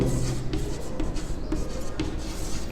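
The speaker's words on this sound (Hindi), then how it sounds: "तो मैं यहाँ पे लिखता हूँ" Pen or marker writing on a board or page during a Class 9 geometry lesson, a steady scratchy rubbing with short stroke accents over a low background hum, close and continuous.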